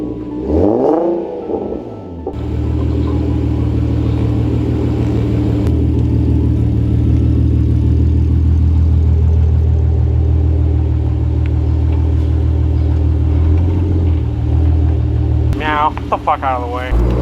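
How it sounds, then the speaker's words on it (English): Infiniti G37 sedan with ported upper and lower intake manifolds, a loud, close engine drone and rumble heard from inside while driving, holding steady for a long stretch, with brief talking at the start and the end. "we're gonna let the car kind of warm up a bit"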